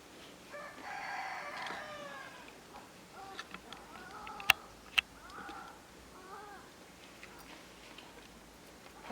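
A black chicken in a village clucks and crows in short bursts, with a couple of sharp clicks midway and quiet background noise between calls.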